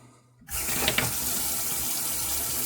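Steady running water from a bathroom counter tap, turned on to wet a shaving brush, starts abruptly and pours on as a close, continuous broadband rush with no talking.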